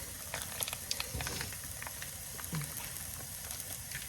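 Grass-fed ground beef dropped into a pan of cooking onions for tacos, a soft steady hiss and sizzle with a few scattered crackles and light clatters, close but fairly quiet, no voices.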